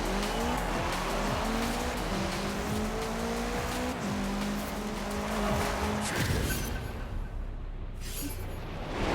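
A VW Beetle racing in Forza Horizon 4, its engine climbing through rising revs and shifts with tire squeal and skidding, then cutting off into quieter noise near the end.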